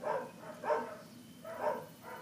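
A dog barks in short bursts, three or four sharp barks spaced about a second apart, moderately loud against a quiet background.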